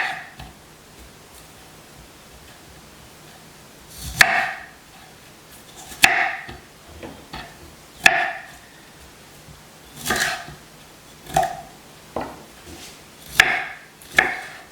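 Vegetables chopped for roasting, with a knife striking a board in short bursts of a few quick cuts separated by pauses, close and fairly loud over a quiet background.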